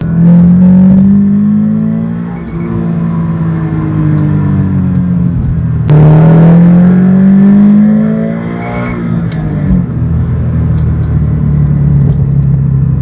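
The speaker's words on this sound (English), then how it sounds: "This one definitely feels like it's a lot more intake noise driving around" Subaru BRZ or Toyota GR86 fitted with an Eventuri carbon fiber intake, driving with a loud, steady engine drone and intake rumble that rises and falls through gear changes, no talking.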